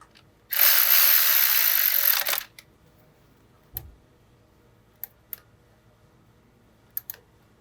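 A ratchet tightens the bolt on a transmission-cooler line bracket at the front of the oil pan on a 2014-2018 BMW F80 M3, giving one close, steady two-second burst of rapid clicking, followed by a few faint isolated clicks.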